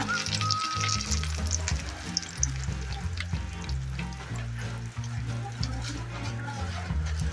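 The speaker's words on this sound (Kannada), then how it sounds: "ತುಪ್ಪ ಬೆಚ್ಚಾಯಿ ಬೊಕ್ಕ ತುಲೆ ಬೇಡ್ ಸೊಪ್ಪು ಮೂಜಿ ಬೇಡ್ ಸೊಪ್ಪು ಅರ್ದು ಫ್ರೈ ಮಾಡ್ತದ" Curry leaves frying in hot ghee in a pan for Tulu-style chicken uruvol, a close, busy sizzle with crackling bursts over a low rumbling hum, continuous and fairly loud, with no voices.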